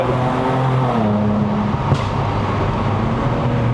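A Lexus RC350 V6 luxury coupe on a mountain road in Malaysia drones steadily from inside the cabin, the engine note shifting and briefly blipping as it downshifts, with continuous road roar and no talk.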